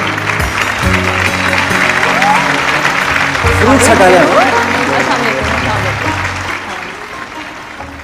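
A studio audience on a Pakistani morning show claps as guests are welcomed on set, sustained applause under a host speaking over it, with background music and a brief sound effect in the middle, fading toward the end.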